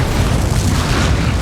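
A fiery Incendio spell blast in Hogwarts Legacy, a loud, dense roaring burst with heavy low rumble that holds steady through its short length, with no talk over it.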